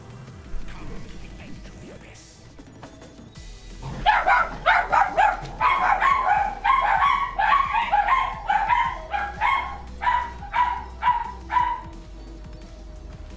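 A dog barks repeatedly in a steady, fairly loud series of sharp barks with a few whimpering yips, close by, following a quieter stretch of low background noise and game sounds.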